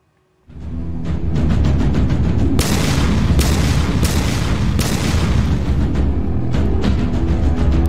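A bomb hurled at a house front bursts with a loud, sudden boom, followed by several seconds of sustained roaring, crackling blast noise and rumbling debris, close and very loud.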